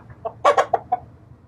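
A sick chicken with a swollen face gives a few short, close clucks in quick succession, loud and clear over a faint background hum.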